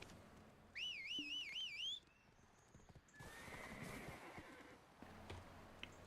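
In the Black Desert video game, a horse gives one clear, wavering whinny, then its hooves clip-clop softly over a quiet background, the whole sound fairly faint.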